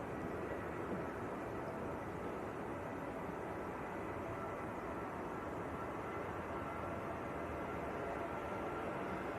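A Ryanair jet on its takeoff roll at Manchester Airport gives a steady, broad roar heard from a distance, even and unbroken throughout with no voices.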